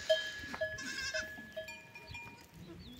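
Goats bleat on a farm during mating season, several wavering, nasal calls close by overlapping one another, with a faint clank like a livestock bell underneath and no talking.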